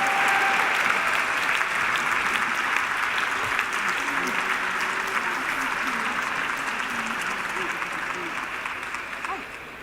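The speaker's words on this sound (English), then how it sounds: "I want everyone to give a big HACR applause to Maria Celeste" Audience at a closing reception and dinner applauding a broadcaster honored for 30 years on air: loud, sustained clapping from a large crowd that fills the room and fades slightly toward the end, with voices faintly audible underneath.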